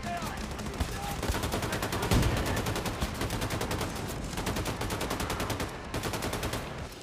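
Rapid automatic gunfire from the video game Wolfenstein II: The New Colossus, a dense, loud, continuous barrage of shots running through the whole stretch with steady rhythm and no break.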